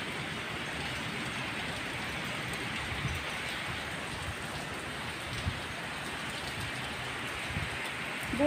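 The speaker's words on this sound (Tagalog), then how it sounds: "Pag umuulan, malamig dito." Steady rain falls outside a 13th-floor building above a street with cars, a soft, even hiss with occasional faint drips and no voices.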